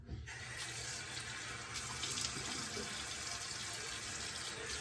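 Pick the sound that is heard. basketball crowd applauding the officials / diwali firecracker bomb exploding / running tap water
running tap water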